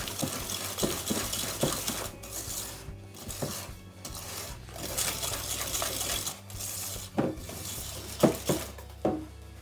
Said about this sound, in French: Puis j'ajoute le dernier œuf. Je mélange à nouveau.